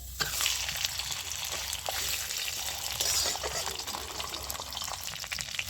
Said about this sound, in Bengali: এবার আমি মাছের মাথাটা দিয়ে দিচ্ছি।